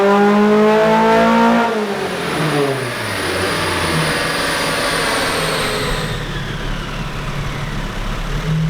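A nitrous-fed Mazda Miata engine revs hard during a dyno pull, a loud sustained rising roar with a steady exhaust drone and a faint high whine, close and alone.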